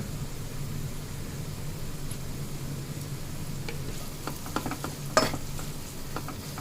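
Spices sizzle and fry in a pan as they're stirred for a baby bitter gourd fry, with scraping clatters growing busier toward the end, one sharper clank standing out.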